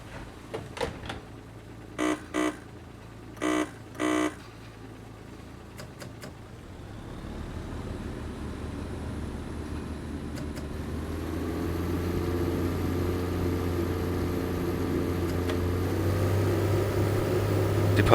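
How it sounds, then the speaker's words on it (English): Idling diesel engine of a Class 14 locomotive in Train Simulator 2015 at a station, windows open, with a few brief clanks early on before the engine throttles up into a rising, steady low rumble with building air rush. "I like the sound of the engines and the air rushing past, which you can hear much better with the windows open"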